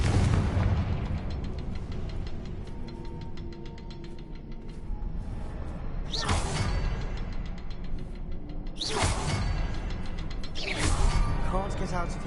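A video game Confringo blasting spell going off in repeated booming bursts, three sharp explosive blasts over a loud rumbling background with crackling debris, close and heavy.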